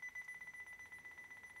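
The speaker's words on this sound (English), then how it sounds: "The beeping you hear is the timer counting down." A camera self-timer beeps out its countdown in a quick, regular run of high, thin electronic pips, close by and fairly faint.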